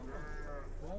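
Sheep bleating at a livestock market, with wavering, overlapping calls close by and the busy hum of the crowded animal pens underneath.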